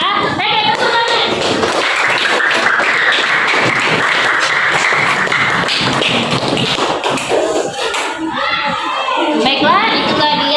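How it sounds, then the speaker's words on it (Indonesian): Classroom applause from students during a lesson, a dense, steady patter of many hands clapping for most of the stretch, with children's voices rising over it toward the end. "Tepuk tangan"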